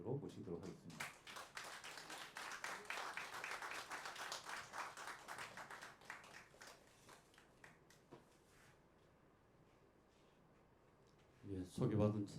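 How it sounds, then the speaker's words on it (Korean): An audience claps warmly to welcome a lecturer at a Korean traditional music gathering. The dense applause fills about six seconds, then fades to quiet, and a voice begins speaking near the end. "여러분들의 뜨거운 박수로 모시도록 하겠습니다."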